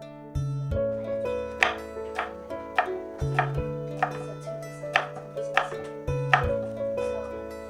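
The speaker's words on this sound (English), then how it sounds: "Meanwhile, I will cut cucumbers." A kitchen knife chops cucumbers on a cutting board in a steady series of crisp, close taps, about two per second, over a soft sustained music bed with no talk.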